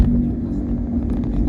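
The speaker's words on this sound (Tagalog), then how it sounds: "Ayun, daming kotse." Cars pass along a road in Laguna, heard from inside a moving vehicle as a steady low rumble with a faint engine whine and a passing swell near the end.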